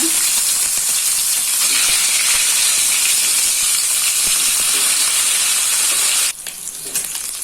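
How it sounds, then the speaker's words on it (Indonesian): Pieces of chicken fry in hot oil in a home kitchen, a loud, steady sizzle and hiss that fills the scene and then drops abruptly near the end, leaving quieter crackling. "Jadi untuk ayamnya saya goreng ya."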